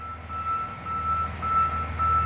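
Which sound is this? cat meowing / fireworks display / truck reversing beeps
truck reversing beeps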